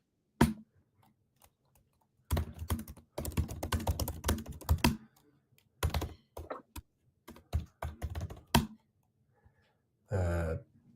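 Someone types on a computer keyboard in quick irregular bursts, with dense runs of close, crisp key clicks broken by short pauses and a few isolated taps.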